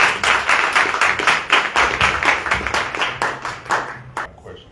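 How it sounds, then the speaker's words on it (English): Audience members at a Dallas political candidate forum clap in loud, fairly regular bursts that keep a steady pulse, then thin out and stop near the end, leaving quiet. "let's give a round of applause for our contestants"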